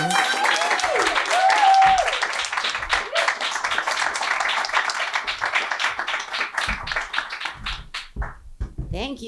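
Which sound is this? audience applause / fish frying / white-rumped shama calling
audience applause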